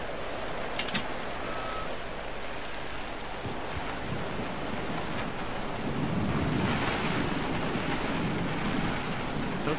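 Thunderstorm with heavy rain in the video game Generation Zero, a dense, steady downpour with low rumbling throughout, no voices.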